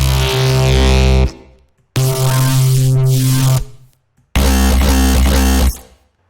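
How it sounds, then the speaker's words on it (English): Three loud dubstep bass synth stabs built from Serum patches and heavily layered effects, each about a second and a half long, harsh, gritty and wobbling, separated by brief silences. "they're basically just serum patches that I made with a shit ton of effect afterwards"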